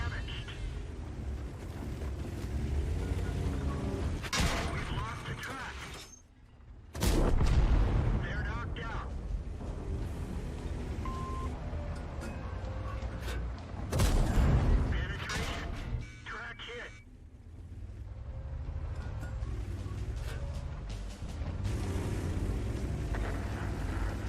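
Tank cannons fire in World of Tanks during an M48 Patton match, with a few heavy booming blasts standing out over a constant low engine rumble.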